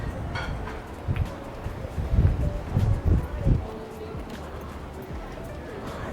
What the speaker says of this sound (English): Super, super windy.